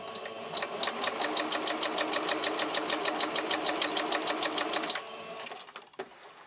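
A sewing machine stitches patchwork squares in a fast, steady mechanical rattle for about five seconds, then stops, leaving a couple of faint handling clicks.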